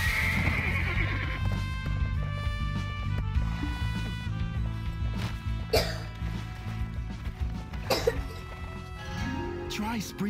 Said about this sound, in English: Try sprinting across an open field on the back of a horse.